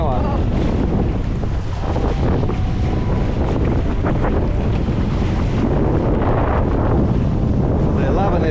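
Loud, constant wind buffeting the microphone over the rush and slosh of waves against a moving boat in the Whitsundays, continuous throughout.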